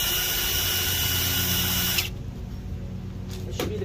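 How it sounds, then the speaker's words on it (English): A power drill with a 3/32 bit bores out the string hole of a weed eater spool. It whines steadily, then its tone drops and roughens as the bit bites into the plastic, close and loud. "I'm going to drill out the hole here."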